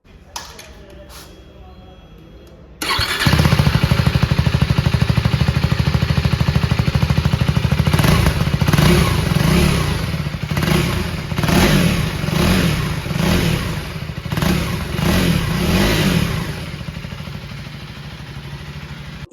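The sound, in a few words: KTM Adventure 390 motorcycle engine revving, underbelly exhaust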